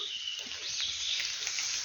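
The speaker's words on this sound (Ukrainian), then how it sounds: "зайшовши в ліс і зразу почався дощ" Steady rain patters on an umbrella in a forest, a dense continuous hiss of drops held close overhead with small irregular taps scattered through it and no talking.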